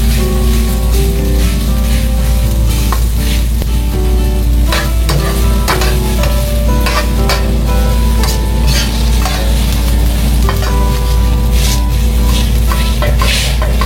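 Cooked rice tipped into a hot frying pan for Japanese-style yakimeshi vegetable fried rice, giving a steady, loud, close sizzle with scraping and stirring clatter throughout.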